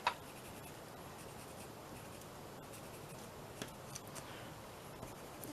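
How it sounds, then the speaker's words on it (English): Pencil scratching and shading across paper while darkening small sections of an origami ice cream paperclip embellishment, a quiet steady scratchy rubbing with a few light taps, close and alone. "I'm going to go in with a bit of a pencil just to darken little sections up"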